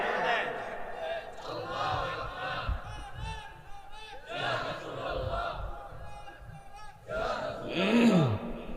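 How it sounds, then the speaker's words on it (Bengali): Crowd at a Bengali Islamic sermon shouting takbir in unison, several loud collective surges of voices with a preacher's amplified speech between them, echoing in a large open gathering. "জোরে দেন তাকবীর, জোরে দেন"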